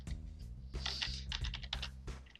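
Fingers type on a computer keyboard while text is edited in Adobe Illustrator, giving a quick uneven patter of close, crisp key clicks, with short pauses between bursts of keystrokes.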